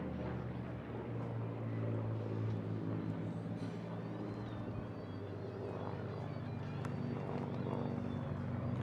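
A WWII reconnaissance aircraft from October 1944 service flies over an airshow crowd at Eastbourne, its propeller engine droning in a steady, sustained roar with a low harmonic hum that holds across the whole passage.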